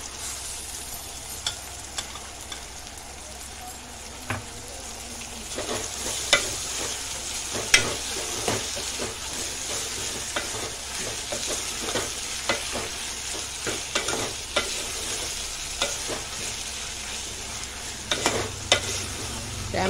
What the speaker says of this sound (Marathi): त्याच्यामध्ये आपण टोमॅटो टाकून घेऊया।